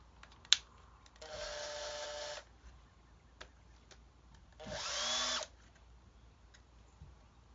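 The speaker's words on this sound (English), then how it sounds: "Now I'm going to take my drill and mark where the holes should go on the neck." A power drill whirs in two short bursts, about a second each, marking holes in a guitar neck, separated by quiet with small taps and clicks, close and moderately loud.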